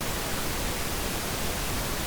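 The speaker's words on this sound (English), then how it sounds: "pink noise" Steady, unbroken pink noise fills the clip, a smooth, even hiss with deeper weight than white noise and no variation or other sounds.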